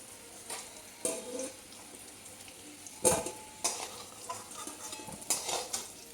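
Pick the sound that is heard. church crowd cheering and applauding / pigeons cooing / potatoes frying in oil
potatoes frying in oil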